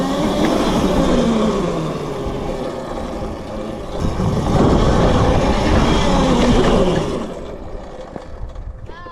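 Qronge X1 Spark electric mini dirt bike climbing a hill at full throttle, a continuous close motor whine with knobby tyre and wind rumble that swells midway, then eases off near the end.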